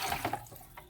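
Tap water pours and splashes into a bucket at close range, a faint, uneven run of drips and gurgles that fades partway through with no talking.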